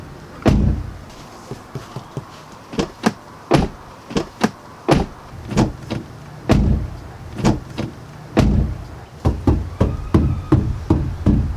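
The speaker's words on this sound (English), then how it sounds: "when you slam them shut, there's just a lot of wobble sound that you get." The thin front door of a truck is slammed shut and knocked on repeatedly, making a steady series of hollow, wobbly thumps and knocks up close, with no voices.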